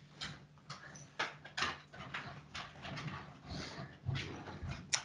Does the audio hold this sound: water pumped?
no